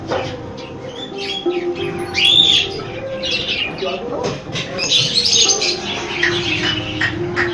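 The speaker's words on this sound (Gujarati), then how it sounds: "પાઈ પાઈ જબરદસ્ત પોપટ ને જો." Parrots squawk and chirp in a zoo aviary, bright calls rising repeatedly over a steady murmur of crowd and background voices.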